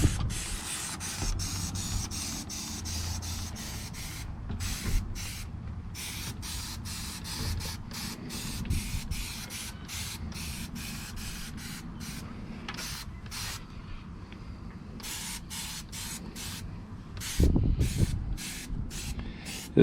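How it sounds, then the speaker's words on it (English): Rapid, repeated hissing bursts from a spray bottle of Dawn dish soap, pumped in steady quick succession onto a 1995 Ford F-150 dashboard, close and fairly quiet, with faint rustling underneath. "I'm going to spray this Dawn on here."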